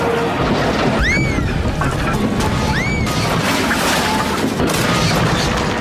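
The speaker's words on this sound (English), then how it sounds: "Crash, bang, wallop went... Oh, help, Gordon cried as he slid off the tracks." A Thomas and Friends engine crashes off the tracks: a loud, continuous rumbling crash with clattering debris and a couple of brief whistle-like squeals, close and dense throughout.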